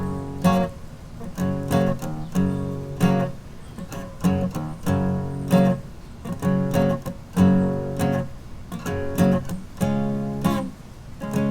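An instrumental two-chord progression alternates between the 1 and 5 chords in a steady, rhythmic pattern of plucked or strummed hits. It plays clearly and alone, without talk, for the whole stretch.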